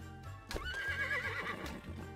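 A horse in the Taskmaster VR video game gives a loud, drawn-out neigh and whinny over a quiet repeating background tune.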